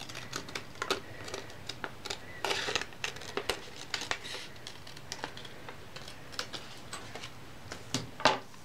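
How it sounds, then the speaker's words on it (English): Scissors cut out the armhole of a paper sewing pattern in a series of close, crisp snips and paper rustles, with short irregular pauses between the cuts. "I'm going to cut that out as well."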